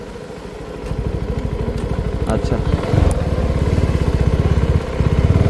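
A CF Moto NK250 naked motorcycle engine runs close by with a steady rhythmic thrum, rising as revs climb and blipping near the middle and end, while a person briefly speaks over it.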